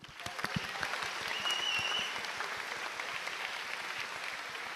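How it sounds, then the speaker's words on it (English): Applause at a GT World Series racing event in Tokyo, a fairly quiet, distant crowd clapping steadily, with individual sharp claps popping out near the start and a continuous patter that holds through to the end. "Let's have a round of applause."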